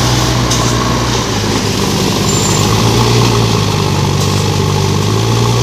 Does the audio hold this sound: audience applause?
no